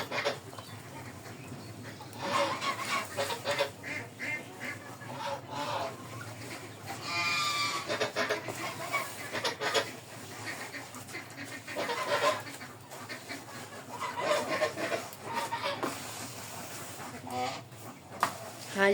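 Ducks call noisily in the afternoon while being fed, a busy chorus of quacks and honks that rises and falls, fairly close, with a person talking now and then underneath.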